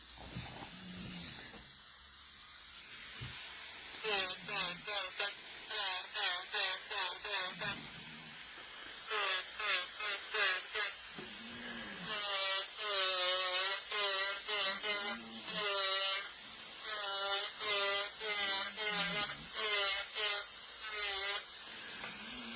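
A power tool fitted with a 150-grit sanding bit buzzes in repeated bursts, whining up and down in pitch as it works, loud and close with steady background hiss.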